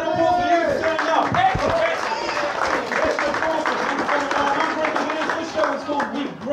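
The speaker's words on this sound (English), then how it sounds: "Round of applause for you for turning up." A comedy show crowd claps and cheers, with loud, busy applause mixed with shouting voices and whoops close by throughout.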